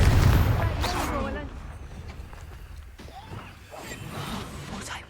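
Confringo fire spell cast in Hogwarts Legacy: a loud, broadband fiery blast opens the moment, then softer crackling combat noise trails off while voices speak over it.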